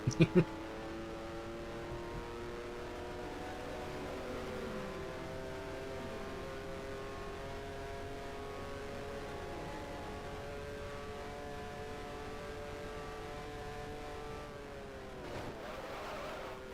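Formula One race car engine in the F1 Challenge game, 1973 season, holding a steady high drone with harmonic whine, then dropping pitch as it downshifts near the end, loud and continuous.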